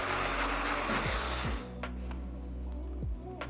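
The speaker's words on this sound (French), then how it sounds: "Des fois même sans brosse, juste avec le sèche-cheveux." A handheld hair dryer blows loud and steady while styling hair for a graduated cut, then its airflow drops to a lower, softer setting partway through, with brief bumps of handling.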